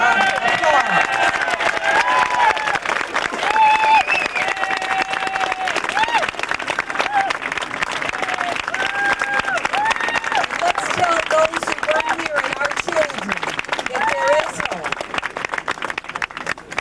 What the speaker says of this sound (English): Let's give him a resounding applause.